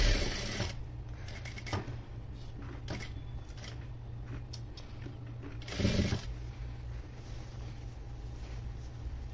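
A sewing machine runs steadily, stitching long anarkali frock pieces together with their lining, a continuous close mechanical whir with a few louder bursts and no talking.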